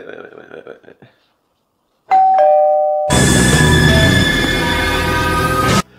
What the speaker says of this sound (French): Il y a une sonnette!